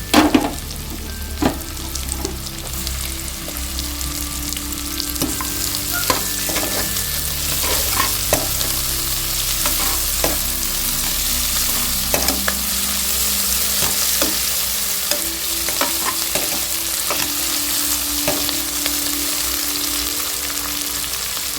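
Onions and potatoes fry and get stirred for mint rice cooked in a pressure cooker. The dense sizzle runs throughout, broken by frequent spatula scrapes and taps, and no voice is heard.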